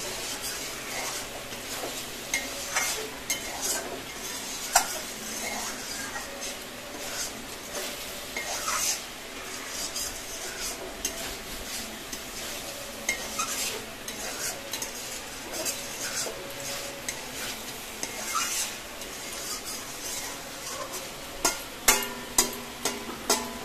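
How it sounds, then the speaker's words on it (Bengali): A spoon scrapes and stirs soybean and egg curry in a pan with a soft sizzle underneath, the strokes coming in uneven rhythmic bursts, fairly quiet and close, with a few sharper metallic clinks near the end. "এখন জাস্ট একটু নাড়িয়ে নেবে, নাড়িয়ে তাড়িয়ে তারপরে জল দিয়ে কষাই করতে হবে না।"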